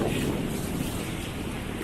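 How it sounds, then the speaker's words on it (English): Strong wind buffeting the microphone at a seaside beach in Kaohsiung, Taiwan on a cloudy day, a steady loud rumbling roar with surf noise mixed in, continuous throughout with no voices. "Hopefully you can hear me over the noise, the wind noise."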